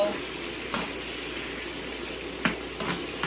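Squash slices sautéing in a pan, a steady soft sizzle of frying with a few louder stirring scrapes and clinks, close and moderately quiet, no talking.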